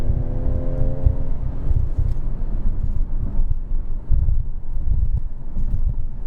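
A turbocharged 2019 Ford Edge ST SUV accelerates hard in sport mode, a loud, low engine drone with heavy wind and road rumble heard from inside the cabin, continuous throughout.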